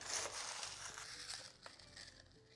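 Ice cubes dropped into a cocktail glass for a Chartreuse swizzle, giving a few crunchy, crackling clinks and rattles up close, fading as the cubes settle.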